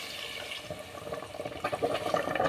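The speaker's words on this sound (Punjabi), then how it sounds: "ਆਪਾਂ ਜੀ ਗਰਮ ਪਾਣੀ ਪਾ ਰਹੇ ਹਾਂ" Hot water poured into a pot of cooking saag (greens), a gurgling, splashing pour that swells louder toward the end, close by and without talk.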